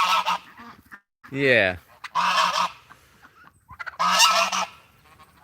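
Loud nearby goose honks in several harsh bursts, mixed with a man's brief speech.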